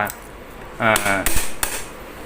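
Metallic tapping and clinking, a few sharp knocks on metal at close range with a nail, knocking a part out of a small fan during repair, with a ringing tone and no talking.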